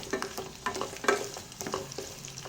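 Shallots and cubed onion frying in a pan, a fairly quiet sizzle punctuated by repeated spoon-stirring scrapes and taps, close up with no talking.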